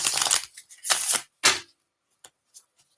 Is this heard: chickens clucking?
no